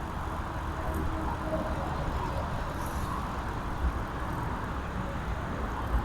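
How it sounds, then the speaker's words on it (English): Cars stream along the I-25 highway beside an urban greenway trail, making a continuous rumbling wash of traffic noise heard from a moderate distance, steady throughout with no talking. "except for the traffic noise, and you can probably see the cars up there"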